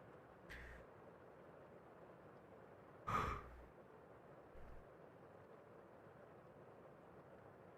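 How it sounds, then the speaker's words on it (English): A single breathy human yawn swells briefly above a quiet steady background hiss, flanked by a couple of fainter breaths. No talking. "Oh, that was a big yawn."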